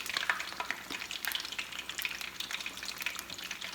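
Puerto Rican alcapurrias criolla fritters fry in oil, a fine crackling sizzle with irregular pops and light stirring, moderately quiet and continuous.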